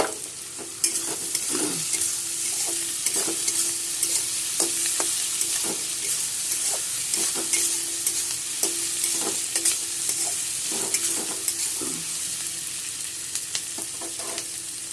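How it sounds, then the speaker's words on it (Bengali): Chopped onion and capsicum fry in a pan with a constant sizzle, while a utensil stirs and scrapes in quick, repeated strokes, close and clear, with no talking. "আমার ক্যাপসিকাম আর পেঁয়াজ ভাজা হয়ে গেছে"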